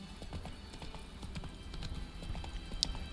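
Hoofbeats of Roach, Geralt's horse in The Witcher 3: Wild Hunt, clop along in a steady trot, moderately close over a low, busy game ambience.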